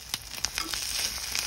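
Food frying in a pan with salt, just before eggs go in: a close, steady sizzle with a few sharp crackles and pops scattered through it, no talking.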